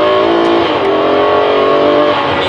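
A Ferrari 599 GTO engine revs loud and close, a sustained high-pitched wail with a brief dip and surge partway through, running continuously without any voices.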